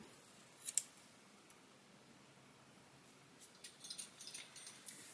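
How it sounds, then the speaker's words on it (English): Scissors snip through cord for a small macramé plant hanger, a couple of crisp close cuts early, then softer clicks and handling rustle in a quiet room. "we're going to get our scissors, cut that little knob off, shove it in, and then cut off this top"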